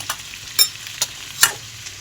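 Chilli and spices go into a hot pan, giving a faint sizzle with several sharp stirring scrapes spaced roughly half a second apart, close and clear, with no talk.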